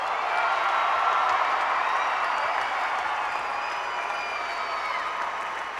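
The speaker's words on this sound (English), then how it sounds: "a rousing round of applause." Crowd applause at an Ohio high school basketball state championship trophy presentation in 2005, a steady dense clapping wash that holds evenly throughout at moderate distance, with faint voices mixed in.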